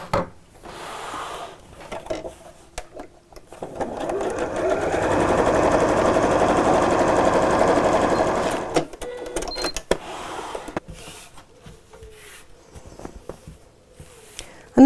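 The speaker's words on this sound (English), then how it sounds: "And sew together straight across here" A sewing machine stitches straight across quilted tote bag pieces in one steady run of about five seconds, fairly close, followed by softer handling and rustling of the fabric.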